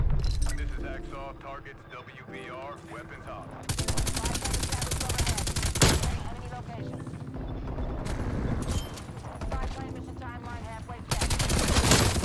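An RPD light machine gun in Call of Duty Cold War/Warzone fires in loud, rapid sustained bursts, separated by stretches where a player talks over quieter game sounds.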